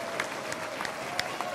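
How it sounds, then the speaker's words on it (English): An audience at a national Main Streets conference closing plenary applauds, scattered claps with several sharper strikes over a soft crowd bed, brief and moderately loud. "Let's give one last round of applause for Michigan"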